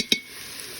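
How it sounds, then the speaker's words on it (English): A spoon clinks once against a pot while flour is stirred into hot oil for a turkey pot pie roux, followed by a soft, steady sizzle. "And just give it a little stir."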